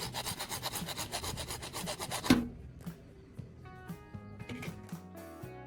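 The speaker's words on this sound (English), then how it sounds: "I've got a PVC pipe here, and I'm using a hacksaw to cut it" A hacksaw cuts through a PVC pipe with fast, rhythmic rasping strokes for about two seconds, then stops, leaving quieter scattered knocks and faint tones.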